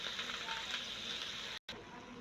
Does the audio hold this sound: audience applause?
no